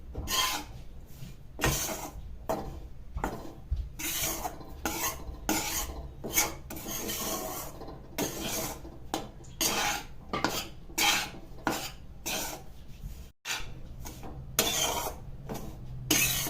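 Wheat flour roasting in a pan, stirred with a spoon in regular rasping, scraping strokes, a rhythmic series of close scratches over a faint low hum, no one speaking.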